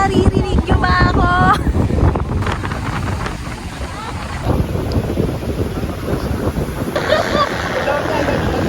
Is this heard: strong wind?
yes